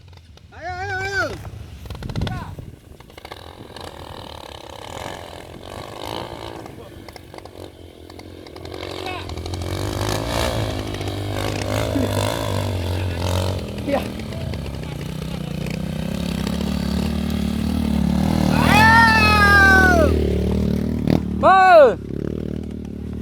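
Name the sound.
trail motorcycle engine revving at full throttle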